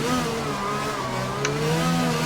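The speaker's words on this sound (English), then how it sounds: "I'm just doing a bit of some drifting" A Formula One car in the F1 2020 video game sliding and drifting through Monaco, its high engine note holding steady with shifting pitch over a continuous loud drone.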